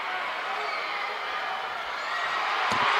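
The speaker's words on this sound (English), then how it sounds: "You hear the crowd, sounds like we had a fall on the other side" Spectators at a girls' state high school wrestling meet murmur and cheer in a broad, steady wash of crowd noise that swells slightly toward the end, with a brief sharp knock near the finish.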